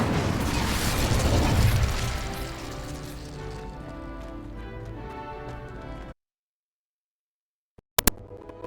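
An Incendio fire spell is cast in Hogwarts Legacy, giving a loud, close burst of crackling, whooshing flame that fades over several seconds into silence, followed by a few sharp clicks.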